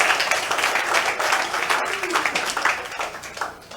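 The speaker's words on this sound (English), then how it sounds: "I want you to applaud these nurses and doctors for the work that they do" Town hall audience at a secondary school applauds nurses and doctors, a broad wash of clapping that swells and fades with bursts of crowd noise and voices mixed in.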